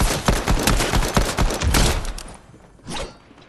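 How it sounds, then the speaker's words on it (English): Rapid bursts of video game gunfire crackle in dense volleys for about two seconds, then thin out into a quieter tail with one last short burst near the end. "Who are you shooting at,"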